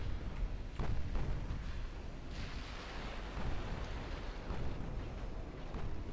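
A torpedo strikes a ship in the naval battle game Ultimate Admiral Dreadnoughts, giving a low, rumbling explosion with broad noisy bursts and a rolling tail, moderately loud with no talk.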